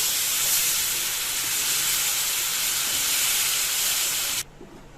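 Milk poured into hot rava in a pan for rava kesari sends up a loud, steady steamy hiss close by, cutting off abruptly near the end into quieter bubbling.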